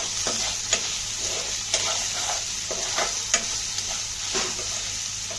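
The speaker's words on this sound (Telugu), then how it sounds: "ఇవన్నీ మనం బాగా కలుపుకోండి" Potato kurma ingredients stirred in a pan, a steady sizzle of frying with a spoon scraping at irregular intervals, several distinct clinks standing out, close and alone with no voices.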